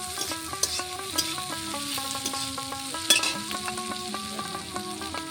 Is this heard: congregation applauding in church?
no